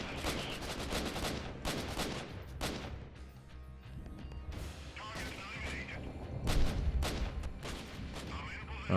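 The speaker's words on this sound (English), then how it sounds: "Whoa, lots of grenades going on." Grenade blasts and gunfire crash through a battle in Freeman Guerrilla Warfare, a dense run of loud explosions and shots with a heavier boom late on, nearly continuous action noise.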